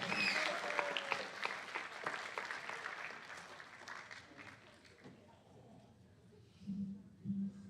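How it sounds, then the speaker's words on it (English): An eighth grade awards ceremony crowd claps for a Principal's Award recipient, the applause strong at first and gradually thinning and fading, with a couple of louder thumps near the end. "Let's give our Principal's Award recipients another round of applause."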